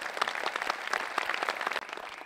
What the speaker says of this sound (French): je propose des applaudissements pour la troupe Fredonia